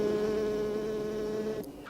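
Honeybees buzz inside a hive, a close, steady droning hum with a clear pitched tone that cuts off abruptly near the end.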